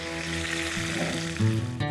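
Pointed gourd (potol) sizzling steadily in hot oil in a pan, with occasional stirring clatter, close and continuous, with no voices.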